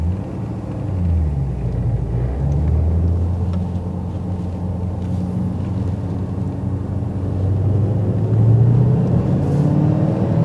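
A 2008 Ford Mustang GT500 V8 engine hums low and steady from inside the cabin, its pitch slowly rising as it pulls in first gear, with a muffled road rumble.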